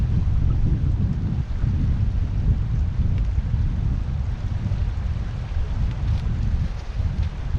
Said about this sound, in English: It's a wee bit breezy here, like a lot of background noise from the river.